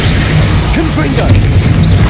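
Confringo, an explosive spell in Hogwarts Legacy, goes off as a loud booming blast with crashing impact, mixed with brief voice-like sweeps over a constant heavy rumble.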